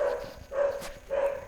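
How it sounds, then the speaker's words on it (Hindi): Dogs bark at night, three evenly spaced barks sounding at a moderate distance over a quiet background hum, no talking. "कुत्ते भौंक रहे हैं"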